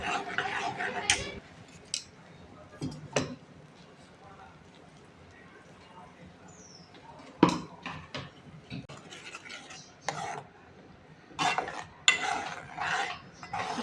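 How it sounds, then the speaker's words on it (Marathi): A ground spinach and cashew paste is stirred in hot oil in a pan for palak paneer, with scattered scraping clinks of a spoon against the pan and someone talking throughout. "जे वाटण केलं होतं ते तेलामध्ये ॲड करून घ्यायचं आणि छान फिरवून"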